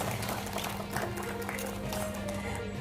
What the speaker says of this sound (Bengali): জোরে হাততালি হোক ওনার জন্য।